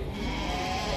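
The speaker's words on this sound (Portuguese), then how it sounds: "As ovelhas mais arrumadas." Sheep bleat in a dense, continuous chorus of overlapping wavering cries at a crowded livestock fair in Cachoeirinha, Pernambuco. The flock is close and loud.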